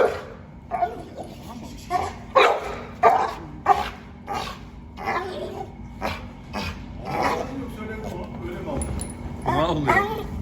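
An American Staffordshire bully dog barks, yips and whines in irregular bursts at a toy dog, close and loud, while people talk in the background.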